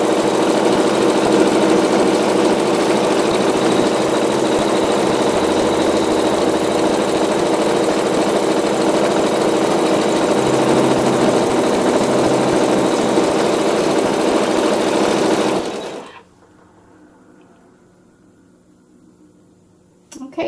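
An embroidery machine stitches fabric onto wool batting with a steady, dense mechanical whir and hum that runs evenly, then cuts off abruptly near the end, leaving near silence.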